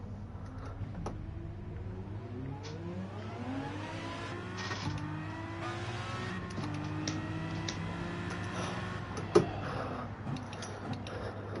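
A Porsche GT3 race car in Gran Turismo 7 online lobby racing drones steadily, its engine pitch sweeping upward again and again as it accelerates through the gears, with one brief click near the end.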